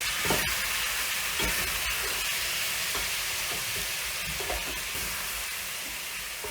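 Onion and tomato with cumin powder frying in a hot pan for pork varattiyathu: a continuous close sizzle broken by repeated scraping stir strokes, with no voices.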